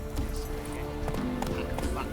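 Horse hooves clopping at a galloping pace in The Witcher 3, a steady rhythm beneath a continuous game ambience and some speech.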